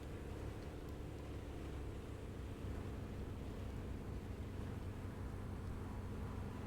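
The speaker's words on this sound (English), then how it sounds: "I'm hearing an engine" Steady low aircraft engine drone in War Thunder VR simulator mode, a continuous rumble with airy hiss holding at an even level throughout, no voices.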